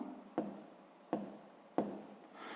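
Pen strokes on a sixth-grade math worksheet come in three short scratchy bursts, each starting sharply and trailing off, close and quiet in a still room.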